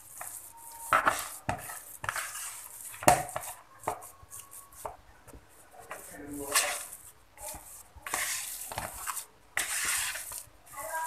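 Date cookie dough being stirred in a bowl, with repeated scraping strokes and light utensil clatter against the bowl in irregular bursts, close and fairly quiet, no talking.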